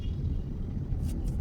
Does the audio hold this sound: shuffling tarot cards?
no